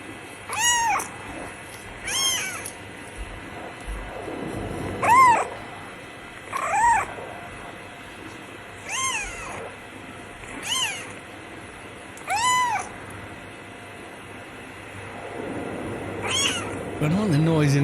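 Two kittens in a cat meme clip, meowing repeatedly in a rhythm of short, high, wavering calls spaced a second or two apart. The calls vary from clear to softer over a low murmur of background noise.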